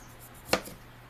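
A single crisp chop of a knife cutting the end off a fruit on a board while preparing a fruit pizza, short and close, in a quiet room.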